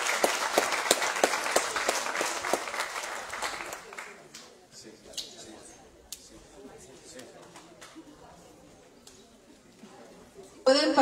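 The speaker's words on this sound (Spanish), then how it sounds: "un aplauso para los invitados especiales" Audience applause for special guests at an ecological event opening: a burst of mixed clapping from a gathered crowd that thins out after a few seconds, leaving scattered claps, a few sharp knocks and faint voices, then a loud bump at the end.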